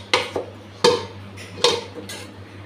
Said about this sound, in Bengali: এখন ঢাকা দিয়ে রাখছি।